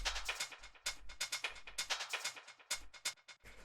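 A quiet electronic percussion pattern of three short, crisp drum rack sounds repeats in a tight acid techno rhythm, with no other sounds around it.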